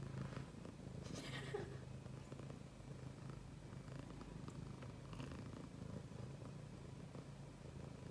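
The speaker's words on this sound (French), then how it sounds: "Ça vous fait un concert de ronron?" A cat purrs softly and steadily up close, a low continuous rumble in a quiet room with no talking.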